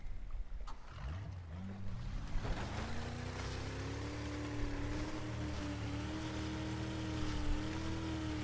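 Boat engine droning and rising in pitch as it speeds across water in Battlefield 4 on the Hainan Resort map, with steady splashing and wash of waves throughout, no talking.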